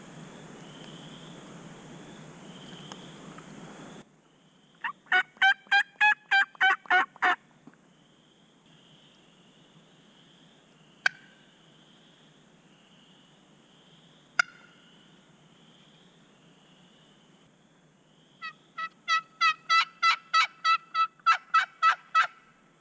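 Distant turkey gobbles ring out in rapid rattling bursts, one early and one late, with faint bird calls and a few sharp clicks between them.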